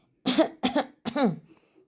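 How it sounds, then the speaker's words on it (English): Three rough coughs in quick succession, close and fairly loud, then silence. "Then she coughs a couple of times before saying"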